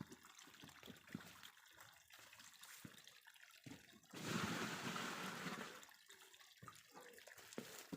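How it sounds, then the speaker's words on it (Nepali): Water gushes from a tap in a short, steady stream lasting a second or two, faint and set among quieter knocks and handling sounds. "यहाँ मेरो पानी चाहिँ आइरहेछ"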